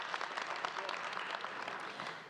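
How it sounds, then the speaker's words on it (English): A crowd at a university Founders Day ceremony applauds in a thick, even wash of clapping that holds steady and eases slightly at the end, with no voices over it. "Please give them all a round of applause."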